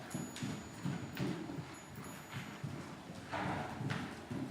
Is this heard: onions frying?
no